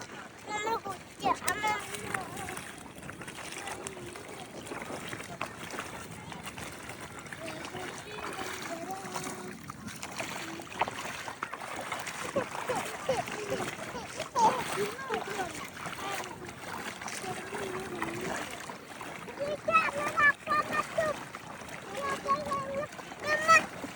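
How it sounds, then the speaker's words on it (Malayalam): Water flows in and splashes at a newly dug well, a steady wash of trickling and sloshing heard under ongoing talk, with a voice among the speakers. "വെള്ളം കണ്ടോ ഇങ്ങനെ മുന്നോട്ട് വന്നുകൊണ്ടിരിക്കണ"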